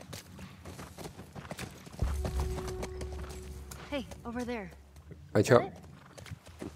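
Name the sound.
horse hooves clip-clopping in video game The Last of Us Part 1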